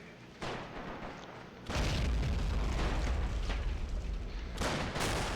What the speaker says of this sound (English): Some more fancy grenade work going on